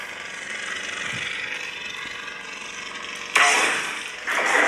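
A Kylo Ren crossguard neopixel lightsaber from KR Sabers with a Proplicator blade hums with a harsh, crackling, unstable buzz that flares louder twice near the end, steady and close with no talking.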